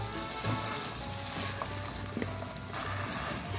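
Diced tomato and green pepper fry in a pan, giving a steady close sizzle with a few faint stirring scrapes and small pops, and no talking.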